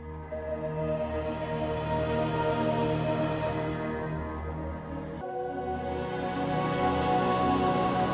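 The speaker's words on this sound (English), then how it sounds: "I stumbled upon a sound from Salu called Forest Spirits" A Salu library sound called Forest Spirits, a grainy, sustained drone with a rich tonal layer and a low-end body, steady and continuous with a brief shift partway through, no voices.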